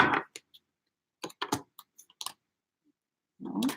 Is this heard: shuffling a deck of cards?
yes